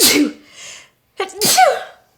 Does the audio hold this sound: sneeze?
yes